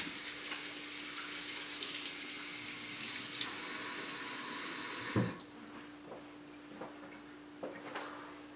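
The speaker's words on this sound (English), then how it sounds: "before we start rolling, I'm going to go ahead and wash our hands." Hands being washed under a running tap at a sink while making cake pops, a steady broadband rush of water that ends abruptly with a thump around five seconds, followed by quieter handling sounds.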